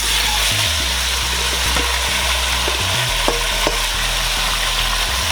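Chicken pieces sizzle loudly in a hot pot for Jamaican stew chicken, a dense, constant frying hiss close to the microphone with occasional stirring clatter and no talk.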